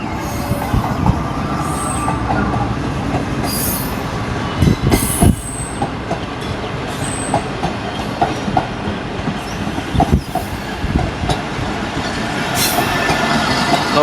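The Khyber Mail, hauled by a GU40 locomotive, rolls onto the loop line at Liaquat Pur railway station, its wheels clacking and rumbling loudly with sharp, high squeals on the curve.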